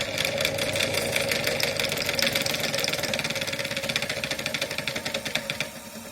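Small motor driving a gyroscope test rig runs with a rapid, rattling mechanical pulse, steady and close, its rhythm gradually loosening into distinct beats before easing off at the end.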